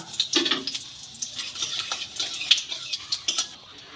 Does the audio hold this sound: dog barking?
no